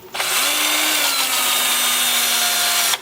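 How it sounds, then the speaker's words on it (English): A power drill fitted with a 2-inch sanding disc whirs steadily as it sands the inside of a live-edge plum wood bowl, a close, continuous whine that starts abruptly and holds level for about three seconds. "I will switch to a 2-inch sanding disc and do the inside"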